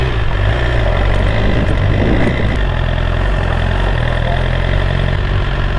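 A BMW S1000RR motorcycle engine idles steadily and close, a loud low rumbling drone that holds even throughout with no speech.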